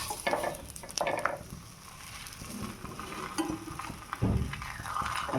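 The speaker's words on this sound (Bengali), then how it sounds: "এটার উপরে আমি আরেকটা রুটি দিব, দুইটা একসাথে ভাজবো।" Two rotis frying together in a pan, giving a soft crackling sizzle with occasional scraping and stirring sounds, fairly quiet and without talk.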